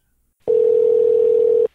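A steady phone tone sounds while a call is being placed. It is one loud, close, unbroken hum that lasts just over a second and ends abruptly, with no voices.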